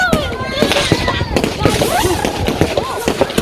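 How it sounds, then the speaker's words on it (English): Fireworks at St James in the City, Liverpool, fill the air with dense whistling, spinning and humming effects, rising and falling streaks over constant crackle, loud and busy, while a voice talks underneath. "It's just a great sound with the fireworks going in different directions and creating sort of spinning sounds and whistling sounds and humming"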